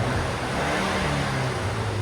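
Stock exhaust of a 2024 BMW X1 M35i with its 2.0L turbo in sport mode, a steady low drone and hum held for a couple of seconds without any sharp rev, fairly muted.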